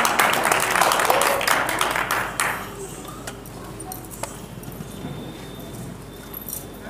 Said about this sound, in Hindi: जोरदार ताली से स्वागत किया जाए।